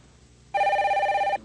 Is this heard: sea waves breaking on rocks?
no